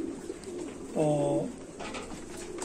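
Sheikho pigeons give a single soft, throaty coo close by, with faint room noise and a brief spoken word around it.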